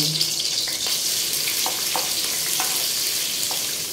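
Chopped onion and shrimp fry in a little oil in a pan for pansit guisado, giving a steady, bright sizzle with a few soft stirring clicks and no talking.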